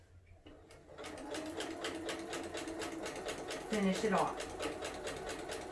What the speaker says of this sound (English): Do a couple of stitches. Do a couple of back stitches.